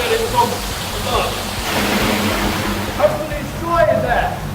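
Water from a tilting rain test rig hisses in a steady broadband wash over a Range Rover Evoque, spraying it from changing angles, loud and continuous with faint voices underneath.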